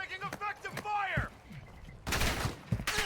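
Gunfire in the video game Call of Duty Warzone DMZ crackles in loud bursts in the second half, after a stretch of voices talking.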